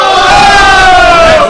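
A large Super Smash Bros. crowd roars loudly in one sustained swelling cheer, dense and close, with no voices standing out.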